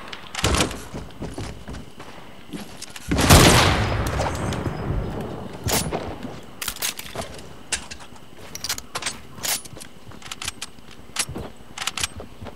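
Scattered sharp sniper and gunshots in Fortnite, a loud burst early on followed by irregular single cracks and short volleys.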